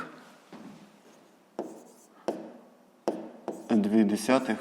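A pen scratches numbers onto paper during a fifth-grade geometry lesson, several short strokes in close succession, with a voice speaking over the end.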